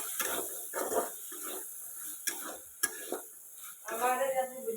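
Oil drizzled into a pea curry (motor) sizzles and crackles while a spoon stirs it, with scraping pulses and a brief clink against the pot, close and steady with a louder bubbling stretch at the end.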